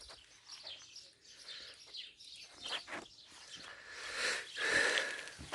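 Birds chirp and twitter outdoors in a rural village at a moderate distance, scattered calls over a soft breathy background that swells toward the end.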